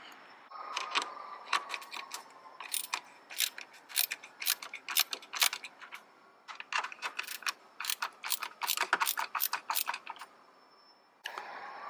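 A ratchet wrench loosening two 10mm bolts on the rear light of a 2019 Toyota RAV4, giving bursts of quick, crisp metallic clicking with short pauses between strokes, close to the microphone.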